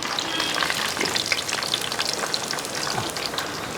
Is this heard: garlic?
yes